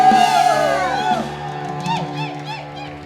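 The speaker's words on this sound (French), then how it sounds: "Est-ce que tu peux pousser des cris?" A church congregation shouts, whoops and cheers loudly in overlapping voices, with rising and falling cries that fade slightly toward the end.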